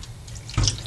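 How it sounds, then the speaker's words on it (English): Milk poured into a pot of macaroni gives a brief, close liquid trickle and splash, building to a louder glug near the end, with no talking. "Put some milk in here too."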